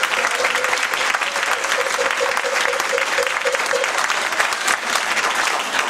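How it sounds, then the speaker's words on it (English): A crowd at a Dr. King Day gathering at NAN applauds the mothers with loud, steady, sustained clapping, a faint tonal hum running beneath it throughout. "Let's give them a round of applause."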